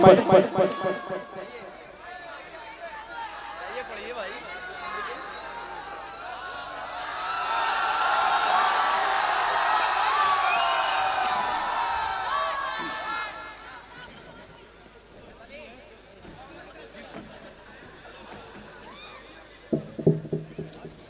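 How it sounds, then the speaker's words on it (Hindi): Uproar from the audience at an all-India mushaira poetry gathering, a dense wash of crowd chatter and shouting that swells to a loud peak in the middle and fades back down. "इतना ज़्यादा हंगामा शोर शराबा"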